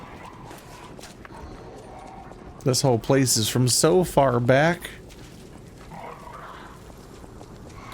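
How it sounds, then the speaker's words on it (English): Dogs bark in the video game Lies of P, with a short cluster of yelps and barks that sit under and around someone talking over the game. "Oh wow, I forgot about the dogs."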